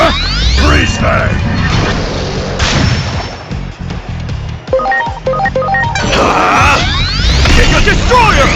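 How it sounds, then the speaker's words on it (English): Freeze Bang attack in the video game Digimon Story: Time Stranger: sweeping whooshes and crashing booms, a stretch of sharp thuds and chiming tones in the middle, then another swelling burst of effects, loud against battle music. "Freeze Bang!"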